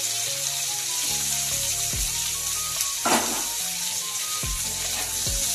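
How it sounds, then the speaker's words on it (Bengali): Potato, papaya, cauliflower and capsicum fry in hot oil in a kadai, a steady close sizzle with a few stirring knocks and scrapes and no voices. "প্রথমে কড়াইতে তেল গরম করে তার মধ্যে আলু, পেঁপে আর ফুলকপি আর ক্যাপসিকাম সব ভালোভাবে ভেজে নিচ্ছে।"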